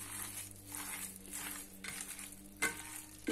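A spoon stirs a meat stuffing mixture for stuffed tomatoes in a pan, making repeated close scraping, squelching strokes in a steady rhythm alongside a soft sizzle.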